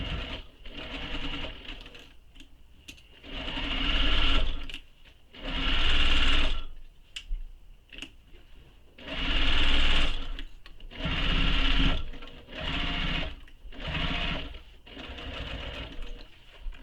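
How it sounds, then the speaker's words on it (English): Sewing machine stitching a small messenger bag, running in several loud close bursts of steady whirring and needle clatter separated by short pauses and quiet handling sounds. "Presser foot back down, continue stitching."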